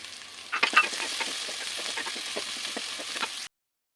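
Garlic, ginger and green chillies sizzle in a hot pan, a steady crackling fry with a burst of spatter as they go in and a few stirring scrapes, then it cuts off abruptly.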